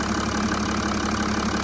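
A Mercedes-Benz ML350 with the OM642 diesel engine idles steadily after a slow start, a continuous close mechanical hum with a low rumble and no voices over it.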